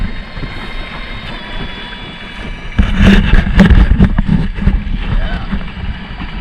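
A motorboat tender driven on the water near Nai Harn, a steady engine drone over wind buffeting that swells louder midway, with splashing and people talking nearby.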